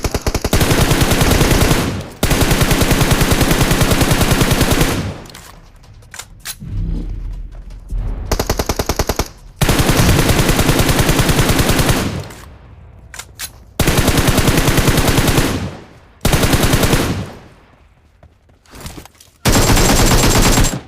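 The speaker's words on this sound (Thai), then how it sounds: "มียิงมาจากที่ก้อนหิน" Loud bursts of automatic gunfire in PUBG Mobile, rapid machine-gun volleys in several long strings separated by short lulls, close and dominant with no talking.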